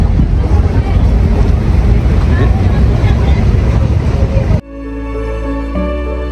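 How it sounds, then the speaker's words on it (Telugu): A ferry crossing the creek in Dubai, with a steady roar of engine and water noise buffeted by wind for most of the clip, then cutting abruptly to a quieter, tonal hum near the end. "ఇది ఫెర్రీ"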